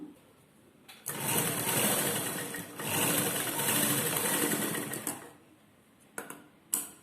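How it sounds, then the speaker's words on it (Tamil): A sewing machine runs stitching a lining seam on a blouse, two sustained bursts of fast whirring separated by a short pause, then a few brief clicks and taps as it stops. "அப்போ இன்னொரு தையல் நீங்கள் போட்டுக்கணும்."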